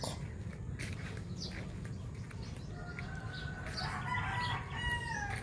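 Chickens in a rural provincial yard, clucking and crowing at a distance over a steady low background rumble, the calls growing busier toward the end.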